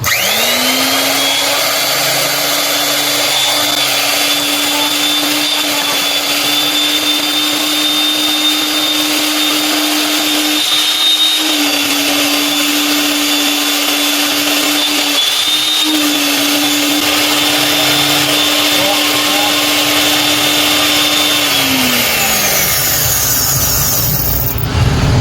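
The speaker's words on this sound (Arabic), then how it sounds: "بعد كده ببدا اطحن انا تاني واوريكم ايه الشكل النهائي دلوقتي" An electric grinder grinds a spice blend with paprika in one long, loud, steady whir. The motor holds an even drone for about twenty seconds, then winds down, with no talking.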